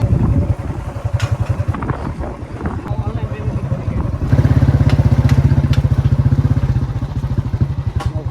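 A motorcycle engine drones steadily and loudly throughout as the bike is ridden with more than one rider aboard, its throbbing exhaust pulsing evenly and growing slightly stronger partway through, with some wind rush over the microphone.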